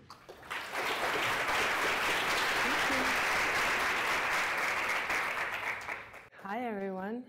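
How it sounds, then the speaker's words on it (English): An audience at a talk breaks into warm, dense applause that swells quickly, holds steady for several seconds, then fades as a voice begins speaking at the end. "warm applause for Elizabeth"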